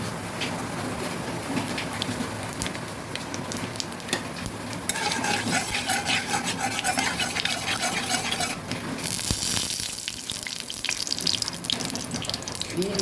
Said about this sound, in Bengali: কড়াইতে তেল দিয়েছি, তেলও গরম হয়ে গেছে। এবার দিয়ে দেবো কালো জিরে।